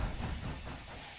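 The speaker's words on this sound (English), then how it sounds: "There's our train." Train approaching in Red Dead Redemption 2, a low rumbling rail roar with a faint steady high whine, fairly quiet and slowly easing off, with no voices.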